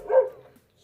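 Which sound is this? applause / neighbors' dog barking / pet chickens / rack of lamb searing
neighbors' dog barking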